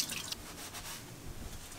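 A single water drop falls into a washbasin, giving a few soft, faint drip taps and a small splash over a quiet room background.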